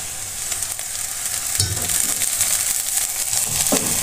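Onion and garlic paste sizzling as it fries in a hot pan, a bright steady hiss that swells when the paste goes in, with stirring scrapes near the end and no talk.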